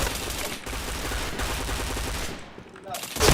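Rapid automatic gunfire from a shooter video game crackles in dense bursts close up, with a short lull before a final sharp burst.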